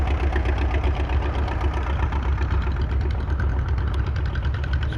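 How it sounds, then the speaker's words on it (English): A heavy Model 40 crawler tractor engine runs steadily at idle at a tractor show, a low rumbling chug with a rapid knock, constant and loud throughout. "A crawler tractor, Model 40."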